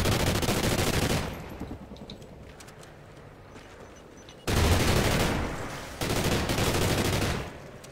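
Sustained machine gun fire in Call of Duty Ghosts, loud dense bursts of rapid shots near the start and again in two long stretches near the end, with quieter gunfire between.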